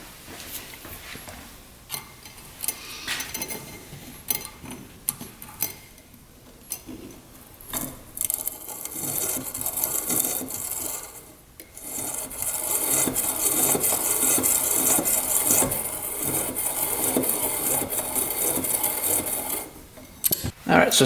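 Metal piston rings from a quad engine being filed down by hand, a steady scraping rasp that starts in short intermittent strokes and then runs continuously and loudly through the second half.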